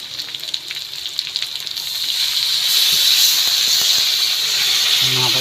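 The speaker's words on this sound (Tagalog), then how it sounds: "Tapos isunod natin yung tubig." Water is poured into a hot cooking pot of softened vegetables seasoned with black pepper. A loud, sustained hiss of steam and sizzle builds and holds over faint background noises.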